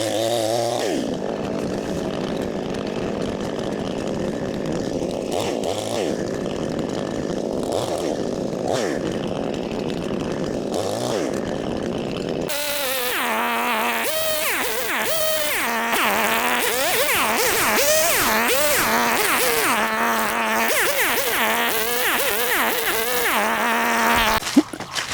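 A chainsaw cuts firewood at a mountain village olive grove, its motor revving loud and close throughout, with rising and falling pitch swells and harsher, busier cutting in the second half.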